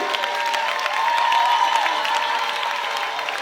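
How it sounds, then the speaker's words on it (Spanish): A salsa festival crowd applauds a Cuban show team, steady close clapping mixed with cheering and a thin sustained tone over the noise. "Un aplauso para YOYO Flow Jenny Bootcamp Team."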